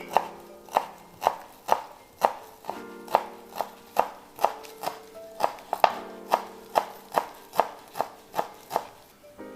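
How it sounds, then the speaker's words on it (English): A knife chops green onions on a cutting board in steady, evenly spaced sharp knocks, about two per second, close and clear with no talking. "All right, you got your little green onions. We're just gonna cut that up."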